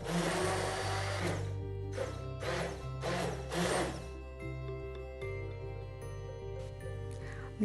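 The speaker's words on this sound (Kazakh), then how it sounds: "балмұздағымызды салып, қайтадан блендермен жақсылап тұрып араластырамыз" A blender whirs in several loud bursts, blending strawberries, milk and ice cream into a milkshake, then winds down to a steady motor hum with no one talking.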